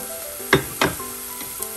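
Garlic hits a hot frying pan for squid adobo, setting off a close, steady sizzle broken by two quick louder spatters as it lands and gets stirred, no talk.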